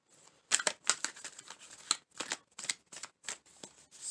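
A deck of Wisdom of the Oracle cards being shuffled, a close sequence of quick riffling and slapping bursts in uneven rhythm, fairly soft, with no talking.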